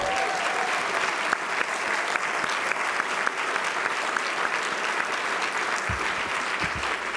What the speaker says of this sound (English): he should get a round of applause